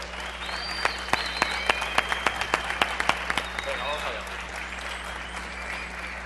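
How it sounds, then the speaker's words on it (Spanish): Audience applause at a closing ceremony: a sparse run of separate sharp claps, roughly a dozen spaced beats that thin out, with background crowd murmur. "Otro aplauso para él, por favor"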